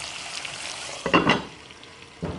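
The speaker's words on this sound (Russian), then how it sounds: "У меня морковь обжаривается." Carrots frying in a pan on the stove: a quiet, steady sizzle with a brief louder burst of stirring and scraping, then another stir near the end.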